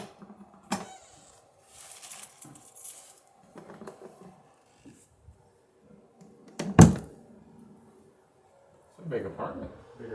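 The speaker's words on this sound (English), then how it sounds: "Can I close my door?" In an apartment, a room door swings shut with one sharp, solid thud partway through, surrounded by quiet shuffling, small clicks and people talking.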